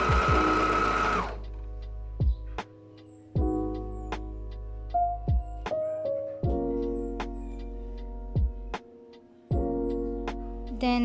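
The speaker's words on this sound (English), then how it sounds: "I'm going to serge the raw edges, or you can use a zigzag stitch" A serger or sewing machine runs along the raw edges of A-line skirt fabric in short loud bursts, stopping and restarting several times with clicks between runs.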